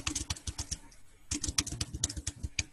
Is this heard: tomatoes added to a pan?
no